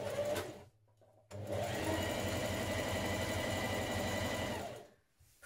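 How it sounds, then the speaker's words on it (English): A sewing machine runs a stretch stitch along the back seam of a wrap dress, with a short burst, a pause, then a long steady whirring run close by that stops near the end. "let's stitch that back seam now, and you're going to do this with a stretch stitch on your machine"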